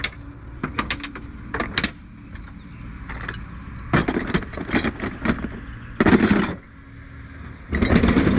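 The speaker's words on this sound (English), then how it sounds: "I better use two spanners on it." Two spanners work on a bolt outdoors, giving a string of close metallic clinks, taps and scrapes in irregular bursts, with a constant engine-like hum underneath.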